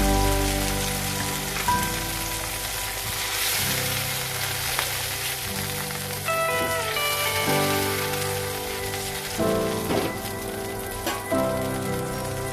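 Water is poured into a pan of fried moong dal and vegetables, making a steady splashing, rain-like patter that runs throughout at close range, with no talk.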